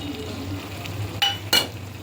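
Dal khichdi stirred in a pan as coriander and curry leaves go in, a low steady simmering sizzle with two brief sharp clinks of a spoon against the pan near the end.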